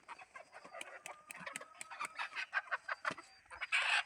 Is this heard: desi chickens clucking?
yes